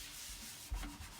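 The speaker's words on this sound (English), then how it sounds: "because I'm using the Scotch-Brite pad" A Scotch-Brite pad scrubs greasy, dirty wooden furniture during prep for painting, giving a soft, close rubbing and sanding rasp with a brief firmer stroke near the end, heard alone without talk.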